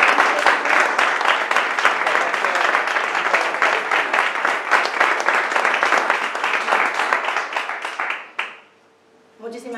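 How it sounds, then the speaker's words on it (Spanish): An audience at a book presentation gives sustained applause, many hands clapping densely and loudly for about eight seconds before it quickly fades out, with a few voices mixed in. "les pido si les podemos dar un aplauso"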